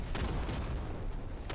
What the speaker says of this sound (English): Ah, it's just explosions.